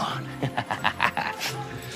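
A dog whimpers and gives soft yips in a quick, uneven run of short cries, heard close over a busy background with speech-like sound mixed in.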